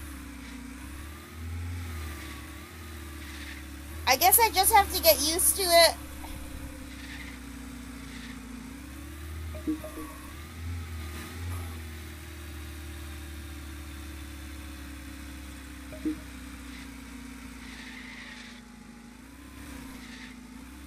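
Pickup truck engine in the video game Trader Life Simulator, a steady rough mid-pitched drone with slight pitch swells as it drives, a brief burst of louder clatter early on, and a speaking voice over it.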